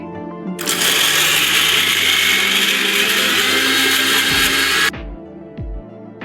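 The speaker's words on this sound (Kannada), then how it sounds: "This is premier mixie." A Premier mixer grinder runs at full power for about four seconds, a loud, steady high-pitched whirring grind that starts abruptly and cuts off sharply, followed by a few faint knocks.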